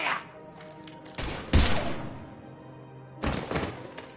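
Video game gunfire in a sci-fi space setting: a few sharp bursts and heavy thuds in quick succession, close and loud, separated by brief quieter gaps.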